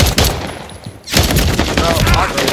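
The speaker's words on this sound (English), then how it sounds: "Oh, the spaz. Yeah, the dual shotgun." Dual shotguns firing in Call of Duty MW3, loud close blasts in quick succession with a brief pause between bursts, dense and punchy.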